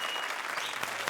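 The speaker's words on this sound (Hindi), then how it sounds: "तालियां।" Studio audience at a TV comedy show claps in a brief, steady burst of applause, fairly faint and even, with no talk over it.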